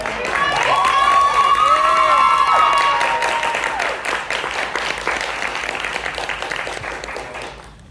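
Applause and cheering from a live audience at a queer art and variety show, loud and dense at first, with bright whoops and shouts over steady clapping, then easing off toward the end.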